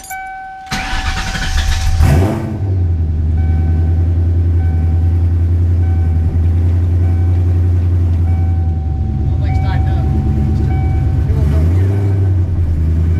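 A Ford Mustang Fox Body with a swapped Coyote engine cranks and fires within the first second, then settles into a loud, steady, close rumbling idle that runs throughout, with people talking faintly over it.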